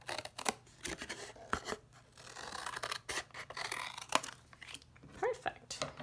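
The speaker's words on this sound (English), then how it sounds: "so I only have to make 2 cuts, because I'm not trying to do extra work here. Alright, there we go, and I will cut that out." Scissors cutting paper booklet covers make a series of close crisp snips and rustles of handled paper, with soft talk in the background.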